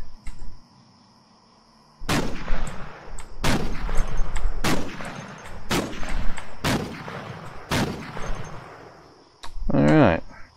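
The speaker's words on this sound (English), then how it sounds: "that was 10 shots, haven't hit yet" Six loud, heavy Barrett rifle shots boom out in the video game Cataclysm DDA, evenly spaced about a second and a half apart, each with a sharp crack and a long decaying tail, followed by a brief voice at the end.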